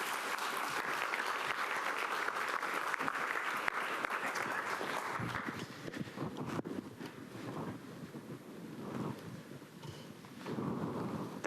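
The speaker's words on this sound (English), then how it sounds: "So if you wouldn't mind just giving a round of applause for Monte Roulier" An audience at a Nashville health summit gives a round of applause, a steady wash of clapping heard at a distance and fairly quiet, thinning toward the end before swelling briefly again.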